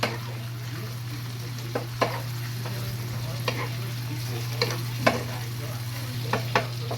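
Ground meat and sayote stir-fried in a pan give a steady low sizzle, broken by sharp, scattered clicks and scrapes from stirring throughout.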